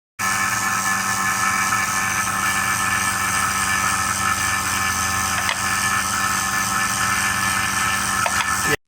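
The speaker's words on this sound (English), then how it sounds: "And then we turn off the pump." A vacuum pump hooked to a refrigerator for an R134A gas recharge runs steadily close by, a constant mechanical drone with a faint whine and a small clunk near the end, alone without talk.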